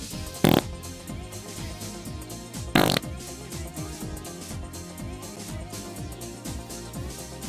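Two short, sharp fart bursts a couple of seconds apart, brief and loud, over continuous background music.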